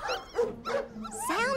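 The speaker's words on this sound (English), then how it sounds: "Sounds like dogs?" Cartoon dogs bark and yip in a quick run of short, bright calls with whimpering, pitched tones, close and loud over a low steady hum, in an animated dog adventure set in the big city.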